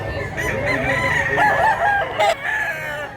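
A big rooster crowing, one loud, close, drawn-out cock-a-doodle-doo with a wavering tone, followed by a brief clucking note.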